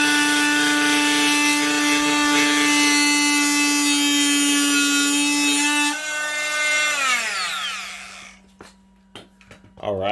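Makita oscillating multi-tool cutting wood, a loud, close, steady buzzing whine for about six seconds that then drops in pitch and winds down to a stop, followed by a few faint knocks.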